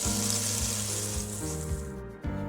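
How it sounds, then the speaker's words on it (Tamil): Onions and tomatoes sautéing in a pan for a village-style fish curry give a steady, close frying hiss that stays even throughout, briefly broken near the end, with no talk. "சேர்த்துட்டு தக்காளி நல்லா குழையிற வரைக்கும் நம்ம நல்லா வதக்கி விட்டுக்கணுங்க"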